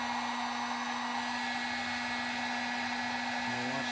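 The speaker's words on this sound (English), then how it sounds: "I'm going to show you what it looks like when you use a heat gun on it" Heat gun blowing hot air onto the surface of an HDPE slingshot to melt it, a steady loud whooshing hiss with a constant hum throughout and no voices.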